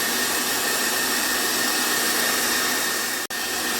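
Kitchen machine churning cream into homemade butter, a loud, steady whirring motor hum running continuously close by, with one brief drop near the end.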